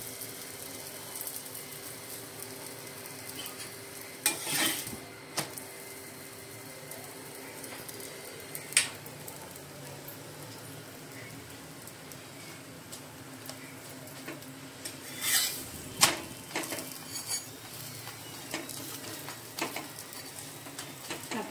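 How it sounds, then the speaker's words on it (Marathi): Chapati brushed with oil roasting on a hot pan over the flame, a faint steady sizzle with light ticks and a couple of brief louder scrapes as it is turned, no talking. "आपली चपाती आता आपण सर्व बाजूने भाजून घेऊया."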